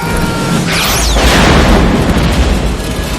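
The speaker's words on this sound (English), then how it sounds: "Grenade." A grenade explosion in a sci-fi action movie sounds as a loud, sustained boom with a rumbling low end. A sharp whooshing sweep rises over it, then the blast decays slowly across the whole clip.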